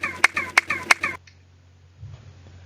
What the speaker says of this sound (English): if you clap, the echo that comes back sounds like this